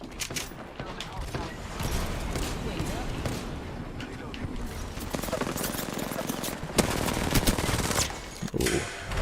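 Dense, continuous gunfire in the video game Apex Legends, with rapid bursts layered through the whole stretch and a louder burst near the end, all under constant game noise and voices.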